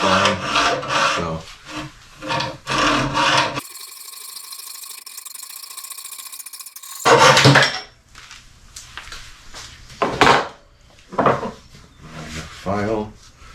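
A hand file rasps across wood on a camper build. Scraping strokes come in short irregular bursts, close and fairly loud, with speech before and after them.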